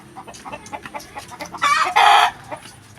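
Chickens in a farmyard cluck in short bursts while drinking water, with a louder, sustained squawk or crowing call rising near the end; a quiet, close, busy backdrop of pecking and small sounds.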